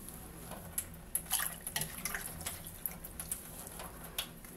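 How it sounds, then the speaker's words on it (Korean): Water trickles and drips from freshly washed acacia flowers as they drain, soft irregular patters and small splashes at close range against a quiet background. "이렇게 씻어서 물기를 좀 빼야지 되거든요"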